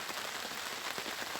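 Steady rain falls on surfaces in a dense, even hiss of drops, close and continuous throughout.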